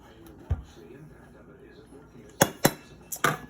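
A utensil mixes ingredients in a bowl for meatballs, giving a few sharp clinks and scrapes against the dish, spaced out at first and then coming in a quick cluster, close by with faint talk underneath.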